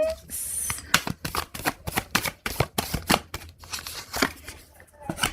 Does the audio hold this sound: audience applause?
no